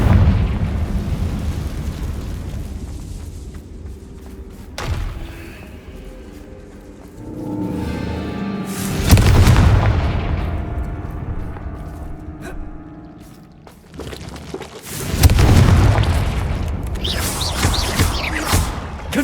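Confringo spell explosions in Hogwarts Legacy, two big booming blasts several seconds apart, each swelling into a loud roar and then fading, with quieter rumbling and scattered debris-like thuds between them.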